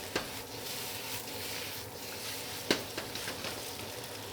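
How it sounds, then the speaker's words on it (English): Mushrooms stir-frying in oil over the highest heat, giving a steady soft sizzle with a few light clicks and scrapes of stirring, quiet and close, with no talk. "once you've essentially sauteed or stir-fried these items just a little bit"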